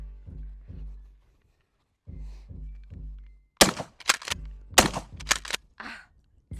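A Maverick pistol-grip shotgun fires several sharp, loud blasts in a quick cluster outdoors, each with a short ringing tail, after a stretch of lower rhythmic thumps.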